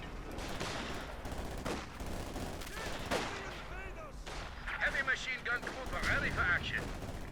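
Gunfire crackles through a Company of Heroes 2 battle, G43 rifles and Maxim machine guns in the mix, steady volleys with denser bursts of shots toward the end, under constant battlefield noise with a voice talking over it.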